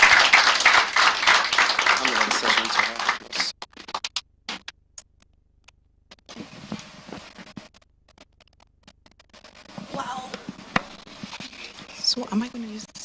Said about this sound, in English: Please let's celebrate her with a resounding applause